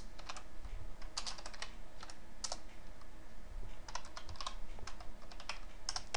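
Typing on a computer keyboard while writing C++ code, quiet close-up key clicks in irregular bursts and short runs, with a low steady background hum and no talking.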